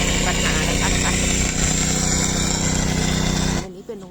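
A municipal truck's engine runs a pump to drain rainwater from flooded streets, giving a loud, steady mechanical drone close by that cuts off sharply near the end.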